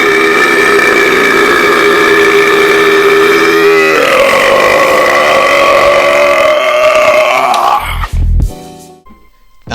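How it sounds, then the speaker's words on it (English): A long, loud, deep burp from someone rumbles for about eight seconds, dropping in pitch midway, then breaks off into a few rough gurgles and a short tail, very close with no other voices. "this right here is the burp to crown them all"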